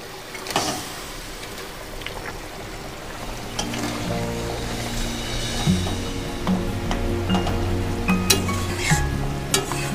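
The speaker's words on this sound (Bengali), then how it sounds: "আমাদের গ্রেভিটা ফুটে উঠেছে, এবার ভেজে রাখা শোল মাছটা দিয়ে দেব।" Fried shol fish going into bubbling gravy in a Bengali village-style mango and fish curry, a continuous sizzle and bubble with scattered clinks and scrapes of a utensil against the pan, close and moderately loud.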